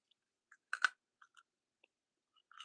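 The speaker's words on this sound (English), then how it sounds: "Full chewing ASMR" Chewing close to the microphone in a quiet room: a few soft, sparse crunchy clicks and mouth sounds with silent gaps between, faint overall and without talk.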